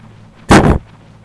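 A single loud, booming gunshot from Metal Gear Solid Integral fired while running, sharp and heavy, lasting a fraction of a second with no talk.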